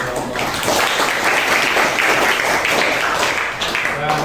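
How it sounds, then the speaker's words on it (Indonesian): A roomful of people applauds a student group, loud continuous clapping that builds quickly and stays dense and steady before easing slightly at the end. "Kita berikan tepuk tangan untuk kelompok."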